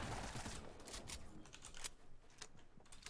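Video game gunfire crackles in quick, faint, uneven bursts of sharp clicking shots, somewhat distant and thin, spread across a few seconds.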